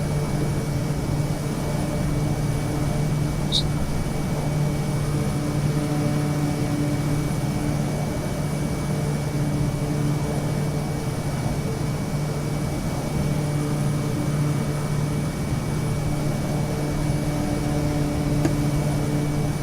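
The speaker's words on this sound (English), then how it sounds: "I've bought another aircraft, dual propeller" Twin-propeller aircraft engines in Microsoft Flight Simulator drone in a steady, even hum with a constant low tone and faint higher whine, holding level throughout with no talk.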